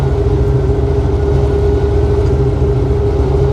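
A 1955 Chevy Nomad gasser hot rod with a stick shift runs with a steady, loud low rumble, the engine holding an even drone throughout with no voices.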